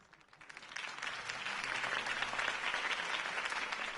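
A crowd in the Batman Telltale video game applauds after a campaign speech, the clapping swelling from soft to a dense, sustained roar of many hands.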